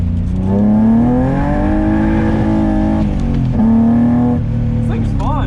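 An E30 BMW drifting, its engine droning and revving loud and close from inside the car, pitch rising and falling through two long pulls, with a voice briefly present.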